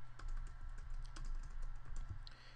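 Fast typing on a computer keyboard, a quiet close stream of rapid key clicks over a low steady hum.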